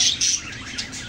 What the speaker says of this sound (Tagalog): Pampagising sa umaga, mga huli ng aking mga alagang ibon.